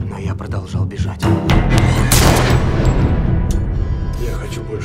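A movie trailer's gunfire sound effects, booming shots and thuds that build into a loud, dense burst, under a voice speaking Russian.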